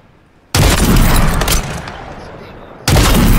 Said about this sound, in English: That fucking sniper rifle.